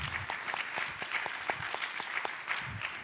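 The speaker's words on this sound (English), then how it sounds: "How about a round of applause for our great panel here today?" Panel audience at a SXSWedu session on recruiting and retaining teachers gives a round of applause, heard as fairly quiet, scattered individual claps in an irregular patter, with no talk over it.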